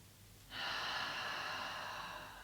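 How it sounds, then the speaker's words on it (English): A slow, steady breath during a pelvic health breathing exercise, beginning abruptly as a soft, airy rush and sustained evenly for about two seconds, close and alone without talk. "gently blow out until we feel like we've emptied our lungs"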